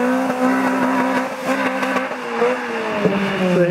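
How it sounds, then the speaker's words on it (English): A Spyder engine revs loudly and close by on a farm, with a continuous high, buzzing engine note that climbs and dips over a few seconds and no voices. "So he's revving it up."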